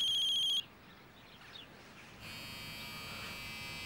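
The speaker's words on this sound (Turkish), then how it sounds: "Ha, telefon çalıyor." A telephone rings in a rural household belonging to a milk seller: a short, bright electronic ring opens the clip, then a steadier tonal ringing returns a moment later, with no one talking.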